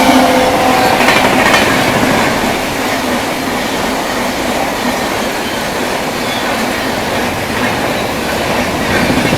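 An Indian Railways express train, the Vikramshila Express, passes on the line while overtaking, its rumble and clickety-clack steady and loud throughout with faint wheel squeal near the start.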